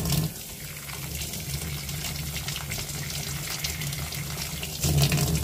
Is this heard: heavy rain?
no